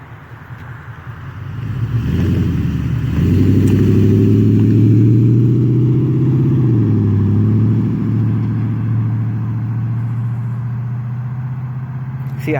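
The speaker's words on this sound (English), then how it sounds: "here comes a normal acceleration" A first-generation Toyota Tundra with longtube headers and aftermarket mufflers accelerates close by, its deep exhaust note swelling into a loud sustained drone, shifting pitch partway through, then settling into a steady cruise.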